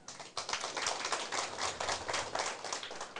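An audience at a political lecture claps together in a faint, fast, even patter that continues steadily for a few seconds, heard from some distance.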